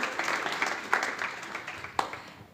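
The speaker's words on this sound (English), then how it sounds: "give a big round of applause for Akiko Nakayama" Short burst of audience applause at an expanded animation conference panel, a dense patter of clapping with a few sharper claps standing out, tapering off toward the end.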